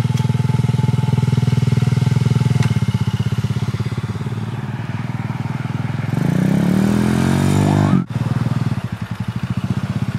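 A motocross dirt bike engine idles and revs close by, its pitch climbing in a long rising rev before a sudden cut and dip, then a rough chugging idle resumes.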